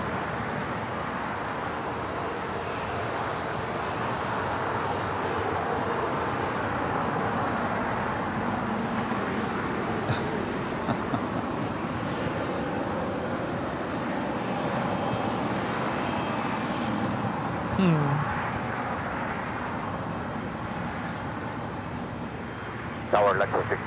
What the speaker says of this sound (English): Believe this citation latitude coming in from Colorado Springs.